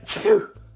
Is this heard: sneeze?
yes